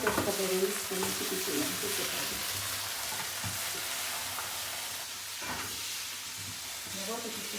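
Veal frying in a pan with garlic and olive oil, a steady close sizzle and hiss with stirring, while people talk faintly over it.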